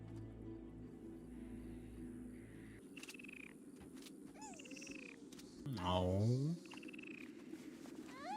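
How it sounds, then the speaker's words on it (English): A frog from The Mandalorian episode "The Child" croaks amid a busy soundscape of whooshes and chirps, one deep warbling croak swelling loudly near the middle, while a person briefly reacts aloud. "Get the frog."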